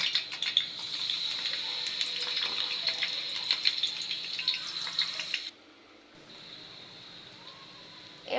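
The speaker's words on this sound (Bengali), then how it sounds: "তো এখন আমি বড়াগুলো ভাজবো।" Masoor lentil fritters and eggplant pieces fry in hot oil with a steady, bright sizzling hiss. The sizzle cuts off abruptly partway through and leaves near silence.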